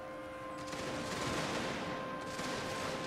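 Matchlock musket volleys in a Total War battle game, a dense continuous crackle of rolling gunfire heard at a distance, steady and fairly faint throughout.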